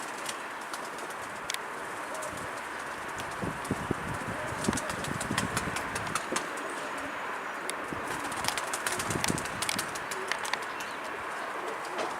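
A large flock of pigeons, a box of birds, fills the space with a steady bed of cooing and fluttering, with sharp clicks and flaps scattered throughout at close range and no voices.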